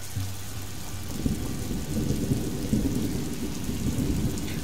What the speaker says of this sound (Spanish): Qué chulo, la lluvia ahí.